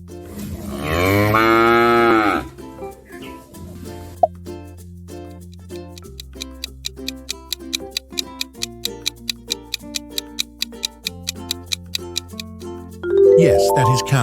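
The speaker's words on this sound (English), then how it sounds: "Which farm animal moos like this?" A cow moos in a long, loud, low drawn-out call lasting about two seconds, followed by quiz-style music with a ticking clock beat, and another moo rises at the very end.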